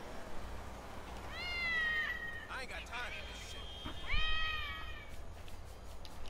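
A cat in the GTA V video game gives two drawn-out, wavering meows close by, the second louder, over a low background rumble.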